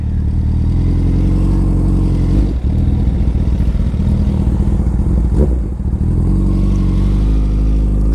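A 2008 Honda CBR 1000RR motorcycle is ridden at a steady pace, its engine droning loud and continuous with a deep rumble, a brief shift or throttle change in the middle, and wind noise throughout.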